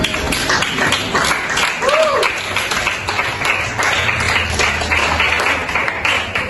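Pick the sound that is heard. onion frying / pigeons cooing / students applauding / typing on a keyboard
students applauding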